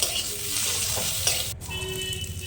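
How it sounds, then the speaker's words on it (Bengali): Masala is stir-fried with cumin and coriander powder in a pan for khichuri. Close, continuous stirring and scraping runs over a steady sizzle, with a brief clatter midway and no talking. "অল্প পরিমাণে জিরের গুঁড়ো আর ধনের গুঁড়ো দিয়ে কষিয়ে নেব মশলাটা"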